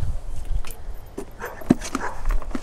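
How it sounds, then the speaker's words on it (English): A neighbour's dog makes short, scattered barks and whimpers from a distance outdoors while someone pots up lemongrass and ginger in a garden, the calls irregular and fairly faint against background rustle. "I do apologize for my neighbor's dog."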